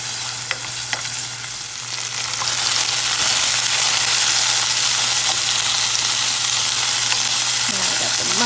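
Mushrooms and peppers sautéing in a pan over low heat: a steady, loud, close sizzle and frying hiss that grows fuller after the first couple of seconds and holds evenly, with no speech.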